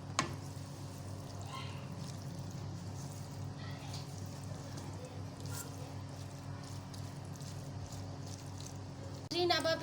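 About one and a half glasses of water poured into mash lentils cooking in spices, a soft, continuous liquid pour under a voice, ending in a brief louder clatter.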